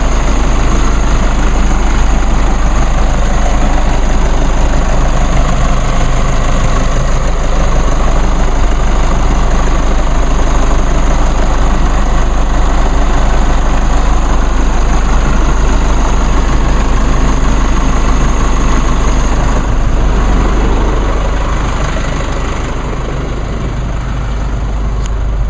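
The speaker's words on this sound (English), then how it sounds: "Just give you all a quick view of the engine running." A 2016 Chevrolet Colorado LT 4x4 pickup truck engine idles steadily and loudly at close range, a constant low rumble with no voices throughout.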